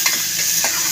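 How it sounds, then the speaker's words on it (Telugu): Chopped onions fry in a pan with a loud, close, continuous sizzle, broken by a couple of brief stirring scrapes. "పెట్టుకున్న ఆనియన్స్ వేసుకున్నాను. ఇది కొంచెం దూరగా కాల్చుకోవాలండి."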